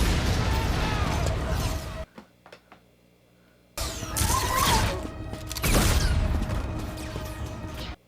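Shotgun-mode bursts of fire from a weapon in a Star Wars Andor scene, loud crashing blasts with a brief near-silent gap before another burst of heavy impacts and clatter.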